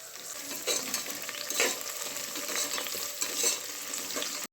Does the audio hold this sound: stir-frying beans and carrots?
yes